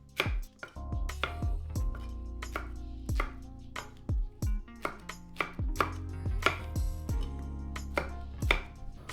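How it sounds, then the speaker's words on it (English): A knife chops pineapple into chunks on a cutting board: about twenty sharp, evenly spaced thuds in a steady rhythm, close and clear, with no talk. "Cut the other parts of the pineapple into chunks."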